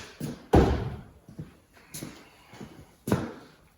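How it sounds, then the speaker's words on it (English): A 2010 Daihatsu HiJet S211 van door shut with a sharp thud, followed by a few lighter knocks and taps nearby, all close and fairly loud with quiet gaps between. "Okay, we'll close the door."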